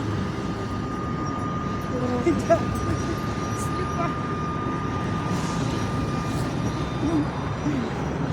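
Steady rumbling and rattling from inside a moving Kashtan Kobra tram, with a faint whine and occasional clunks, a constant hum throughout.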